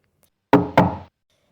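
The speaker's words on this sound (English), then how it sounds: "Just then, there was a faint tapping sound." Two sharp knocks in quick succession on a door, close and fairly loud, followed by silence.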